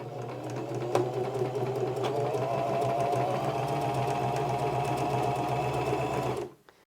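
A mechanical Singer sewing machine stitches steadily along a seam, a close, even mechanical whir and rapid needle clatter running for several seconds before stopping abruptly.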